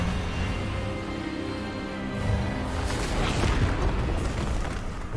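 A magical Expelliarmus spell is cast in the Hogwarts Legacy video game, a booming burst that swells from about two seconds in over a dense, rumbling game soundtrack, with no talk.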